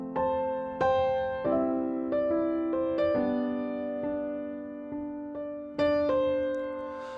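Solo piano playing a piano piece with both hands together: sustained chords and melody notes struck in a steady rhythm, close and clear with no talking.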